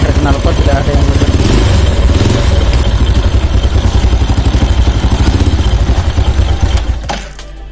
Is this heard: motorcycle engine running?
yes